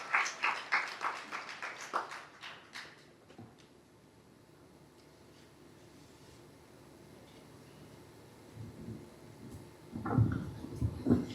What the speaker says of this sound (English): I think she deserves a better round of applause